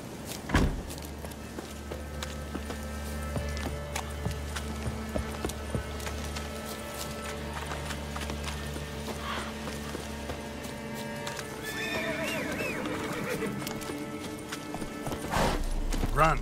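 The horse Roach in Witcher 3 clip-clops along in steady hoofbeats at moderate distance, with a low rumbling bed beneath and a neigh near the end.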